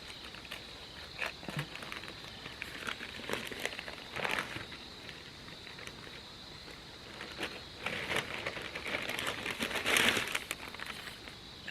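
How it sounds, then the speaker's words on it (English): A brown paper gift bag is torn open carefully around a sticker, faint crinkling and ripping rustles in scattered bursts, growing busier and louder toward the end, close and quiet. "Let me see if I can tear around it so I can salvage the sticker."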